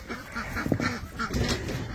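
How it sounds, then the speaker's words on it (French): Ducks in a farmyard give a quick burst of nasal quacks and honks, several calls close together and fairly near over a couple of seconds. "comme d'hab, les canards me racontent leur journée"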